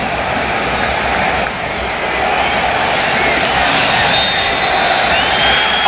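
A large stadium crowd roars at Giants Stadium for a USA vs Argentina soccer friendly, a dense, loud, continuous wash of cheering that swells slightly toward the end.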